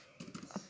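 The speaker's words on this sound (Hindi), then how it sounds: "एक हाथ से टाइपिंग मुझे थोड़ी मुश्किल लग रही है वैसे" A few soft keystrokes tap on a computer keyboard as someone types one-handed, a brief run of four or five muffled clicks, close but faint with no speech.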